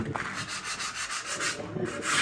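Rhythmic back-and-forth rasping of sandpaper on wood coated with sanding sealer, close up, repeating in quick even strokes.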